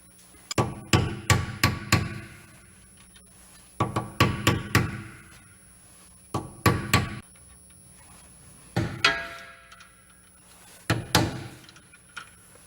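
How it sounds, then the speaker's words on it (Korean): Sharp metallic hammer blows striking a pillow ball suspension bushing on a Kia Sportage R in quick bursts of three to five hits, separated by short pauses, close and ringing. "망치를 이용해서 이걸 쳐주겠습니다."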